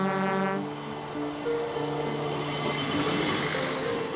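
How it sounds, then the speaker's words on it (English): A train rolls along the railway near Svitavy, a steady monotonous rumble with tonal wheel squeal running throughout, fairly close and continuous with no voices. "be lulled to sleep by the monotonous sound of the railroad"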